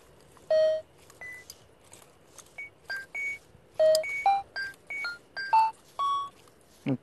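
A treasure-hunting metal detector sounds a series of short electronic signal tones at varied pitches, about a dozen distinct beeps spaced irregularly over quiet background, close and clear.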